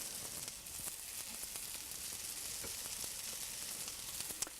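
Carrots and peppers sizzling in a hot stir fry pan, a steady bright crackling hiss with scattered pops and spatters throughout, no voices over it.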